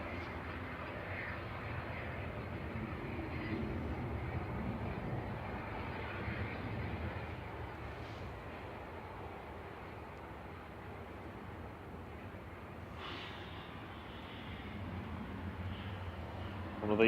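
A Loganair aircraft that has just arrived at Manchester Airport on a flight from the Isle of Man gives a steady, distant low engine rumble that persists throughout with little change in loudness.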